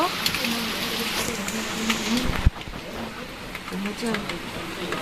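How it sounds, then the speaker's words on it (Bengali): Dense rain patters steadily on surfaces while a person talks over it and a vehicle passes by. "দুপুরবেলায় কিন্তু আরও জোরে জোরে বৃষ্টি হচ্ছে"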